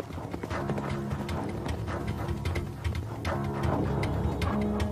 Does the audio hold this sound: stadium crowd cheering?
no